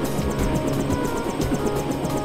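A helicopter in the video game Deus Ex whirs with a steady rhythmic rotor chop and a broad engine roar, close and continuous, with no talking.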